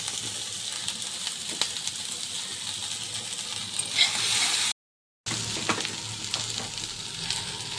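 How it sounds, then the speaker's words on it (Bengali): Capsicum, carrot, onion and peas fry lightly in a kadai, giving a steady, close sizzle with faint stirring scrapes that cuts out for a brief silent gap before resuming. "এখানে ক্যাপসিকাম গাজর পেঁয়াজ কড়াইশুটি সব দিয়ে দিয়েছি হালকা ভাজা করে নিচ্ছি"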